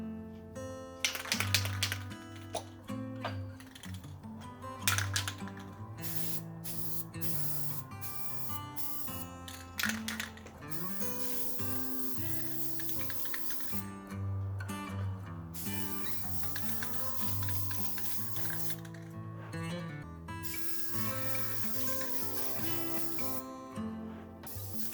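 A fume-heavy coating is sprayed in short bursts with brief gaps, then a longer steady hiss, close to the microphone with no voices.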